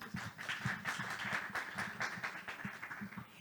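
A conference audience applauds a speaker, a moderately distant patter of many clapping hands that carries on steadily with slight swells.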